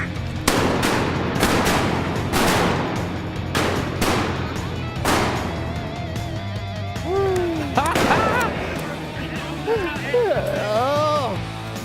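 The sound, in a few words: shotgun gunfire while duck hunting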